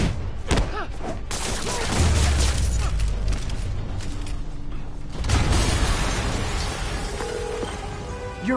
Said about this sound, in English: an explosion just...